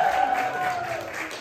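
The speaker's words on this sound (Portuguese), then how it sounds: "Mais palmas, galera" Applause and cheering from an audience at an awards announcement for categories like popular jury and best videocast, a dense steady wash of clapping with a raised voice over it.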